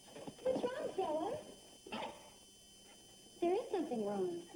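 A dog whimpers and whines in several plaintive, rising-and-falling bursts with short pauses between them, fairly close and clear over a faint background hiss.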